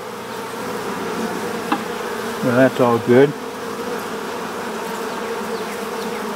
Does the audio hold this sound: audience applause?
no